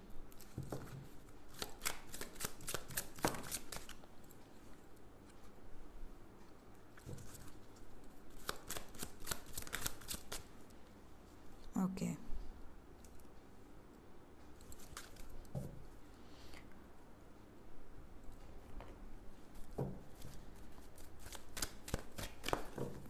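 Tarot cards are shuffled from a deck in repeated quick riffling bursts of crisp flapping and snapping, close and fairly soft, with pauses between rounds and no talking.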